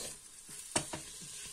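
Chopped sweet seasonal onion frying in a pan, a soft steady sizzle with a couple of sharp pops and faint stirring scrapes.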